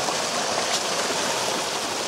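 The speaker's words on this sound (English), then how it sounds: "There's our water, our creek." A backcountry creek where two streams join, giving a constant broadband rush of flowing water, steady and fairly close, with no voices.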